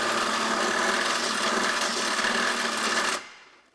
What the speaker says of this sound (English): Carefully drill an 1/8 inch hole